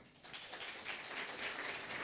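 Audience applause for panelists at a corporate governance business forum, a steady wash of many hands clapping at moderate level, fairly distant and filling the short stretch without any voices over it.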